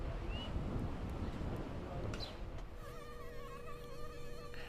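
Mosquitoes buzzing in McAllen, Texas, a thin whining drone rising and falling in pitch, close and clear over a soft windy background, turning into a sustained steady whine near the end.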